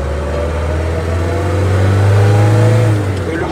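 An old, worn-out tow truck bought from a junkyard pulls hard as its engine accelerates on the road, a steady loud low drone that swells in the middle and eases near the end, with no talking.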